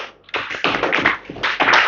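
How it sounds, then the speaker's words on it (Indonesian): Applause in a classroom, a small group clapping in uneven bursts that swell and dip, fairly close and alone. "Tepuk tangan dok."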